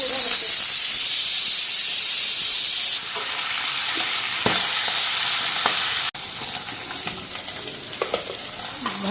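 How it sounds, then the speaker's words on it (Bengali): A fish head frying in oil in a pan gives a steady, close sizzle and hiss, joined by a few sharp spits and brief scraping stirs, with no talking. "তো মাথাটা এক ভাজা হয়ে গেল আর এক পিট ভাজা নিতেছি"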